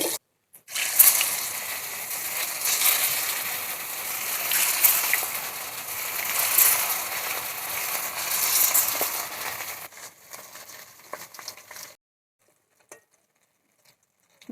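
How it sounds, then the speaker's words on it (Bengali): Small Japanese puti fish frying in a shallow layer of oil in a pan, a steady crackling patter and sputter for about ten seconds, close and fairly loud, then fading out into near silence. "মাছগুলো আমি এরকম লাল লাল করে ভেজে নেব।"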